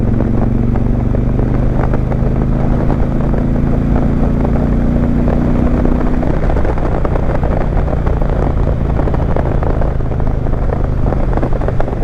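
A 2021 Indian Challenger motorcycle cruises at about 55 mph in sixth gear, its steady loud engine drone and low hum carried under heavy rushing wind with no break, and the tone shifts slightly partway through.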